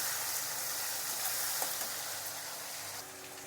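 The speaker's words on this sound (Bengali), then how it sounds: "তো টমেটোগুলো একটু ভেজে নেব।" Tomatoes fry with a little salt in a pan, giving a steady, close sizzle with no talking.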